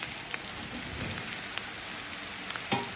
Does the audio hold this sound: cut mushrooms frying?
yes